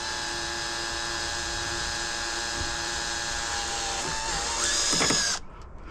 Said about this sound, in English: I'm just drilling really slow. This is plastic,